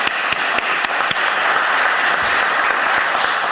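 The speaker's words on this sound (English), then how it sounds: "Quick round of applause." Steady, loud applause from a morning program audience at a college event, fills the whole stretch with a few sharp individual claps standing out above the wash of many hands.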